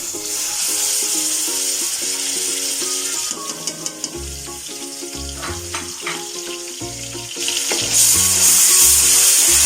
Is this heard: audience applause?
no